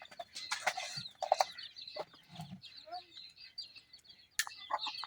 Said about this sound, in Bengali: মুরগিটি সরা।